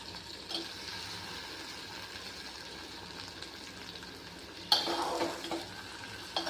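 Eggplant goes into a pan of mixed vegetable curry with okra and bitter gourd, bringing a soft sizzle and spoon scraping, with a sharper burst of frying and stirring near the end; no talk.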